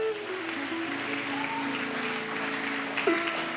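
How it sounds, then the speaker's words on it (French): Applause from a church prayer gathering, a steady, fairly faint wash of clapping with a brief louder burst near the end. "applaudissements"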